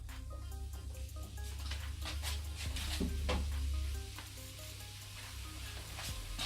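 Dense dark leafy greens heating in a hot pan, a steady low sizzle and frying hiss with occasional stirring scrapes, close and continuous with no talk.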